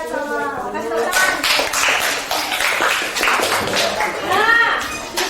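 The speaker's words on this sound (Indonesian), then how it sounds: "Kasih tepuk tangan." Students in a classroom clap in quick bursts of sharp hand claps, close and lively, mixed with voices speaking over and between the claps.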